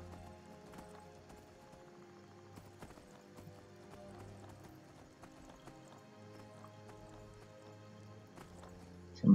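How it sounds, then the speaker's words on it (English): Horse hooves clip-clop in an even, unbroken rhythm while riding in The Elder Scrolls V: Skyrim, moderately loud beneath soft ambient game music, ending with a sudden louder burst. "Somebody's horse standing out in the middle of nowhere."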